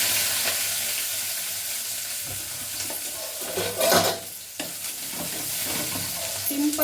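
Onions and green chillies fry with mustard seeds for upma in a hot pan, giving a steady sizzle broken by a few close stirring scrapes and clatters from the pan.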